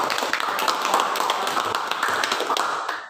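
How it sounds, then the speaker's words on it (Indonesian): A classroom of students claps steadily, a dense patter of hand claps that holds at an even, lively level for about three seconds before stopping abruptly. "berikan tepuk tangannya"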